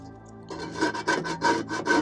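Baked-on grease is scraped off an air fryer after Easy Off cleaner has been applied. Five or six steady, rhythmic rasping strokes sound close and moderately loud, with no talking.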